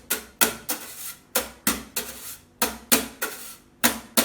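Meinl snare cajón struck with a brush in a steady, repeated pattern of crisp, swishy hits with snare rattle, close and moderately quiet, about two or three strokes per second.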